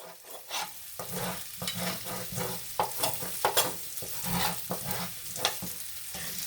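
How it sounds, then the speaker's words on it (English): Spatula scraping the bottom of a pan of smothered potatoes frying with garlic, in repeated quick strokes over a steady sizzle, close and fairly loud. "we're going to scrape that bottom"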